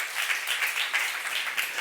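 Applause from a church youth worship congregation, a dense continuous wash of many hands clapping at steady volume for the whole stretch, with no talk.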